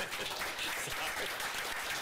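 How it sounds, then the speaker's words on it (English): Faint, steady applause from a city council meeting audience honoring a pet of the month, a soft wash of clapping heard from a distance without distinct individual claps. "Let's give her a round of applause for everything she's doing."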